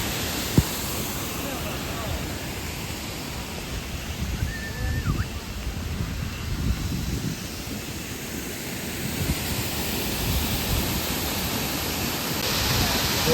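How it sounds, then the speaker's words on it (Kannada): Water flows down the rocks at Ripple Waterfalls on the Munnar gap road in Kerala, a steady broadband rush heard from close by, with a brief tone partway through. "ಸ್ವಲ್ಪ ವಾಟರ್ ನೀರು ಹರಿತಾ ಇರೋದು."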